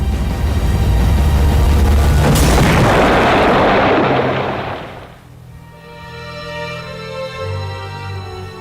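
Bombs from German Zeppelin airships explode over London in a massive rumbling blast that swells, holds loud for several seconds, then fades out as a tonal hum carries on beneath.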